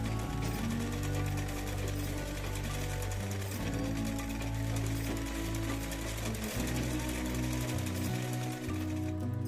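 Sewing machine running steadily as it stitches a small folded border around the neckline of a maxi gown, a continuous close whirring with brief changes in pace and no voices.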